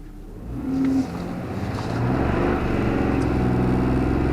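Pickup truck engine revving up and accelerating steadily from a launch, a continuous rising roar heard from inside the cab.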